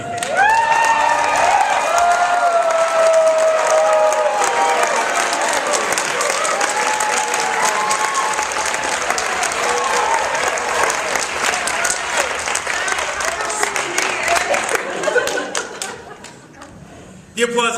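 Presentation-contest audience gives a long, loud ovation of sustained applause with cheering and chatter mixed in, a big roomful of hands clapping for over fifteen seconds before it thins out and stops.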